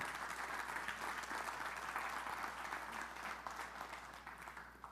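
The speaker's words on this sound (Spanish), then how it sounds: "Dale un aplauso al Señor." A church congregation claps steadily for the Lord in a dense, continuous wave of applause, heard at a distance and fairly faint, easing slightly toward the end.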